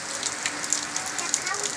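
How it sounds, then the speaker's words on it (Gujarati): Light, steady rain falls outdoors in a slow drizzle, making a continuous soft hiss with scattered drop taps close by. "હવે વરસાદ ચાલુ થઈ ગયો"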